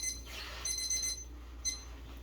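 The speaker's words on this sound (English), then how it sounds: "There's our timer for our cobbler." A kitchen timer goes off for a red hot apple cobbler, giving faint, high electronic beeps in a short repeating pattern over a low steady hum.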